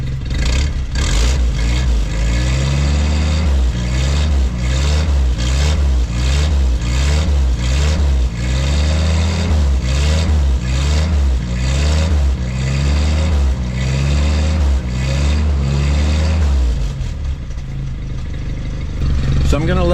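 A 1952 Willys pickup engine with engine failure revs repeatedly in close, loud bursts, a steady rhythmic rise and fall of engine roar over about fifteen seconds before settling toward idle.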